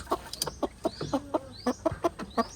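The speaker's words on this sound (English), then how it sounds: "She's like the most chill chicken I've ever met in my life." A calm, docile hen clucks steadily at close range, a rhythmic run of soft, even clucks with a few higher chirping notes mixed in.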